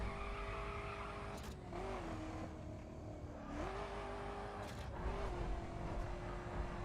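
A car in the racing game The Crew screeching into a skid on a road trip, tyre squeal rising and falling over a steady engine drone, then crashing into a tree, moderately loud with no talk.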